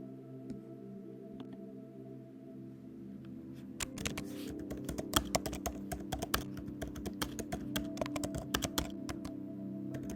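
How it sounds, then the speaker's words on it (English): Quiet hum at first, then rapid keyboard typing begins, a dense stream of light clicking keystrokes continuing to the end. "So I'm typing right now in the chat"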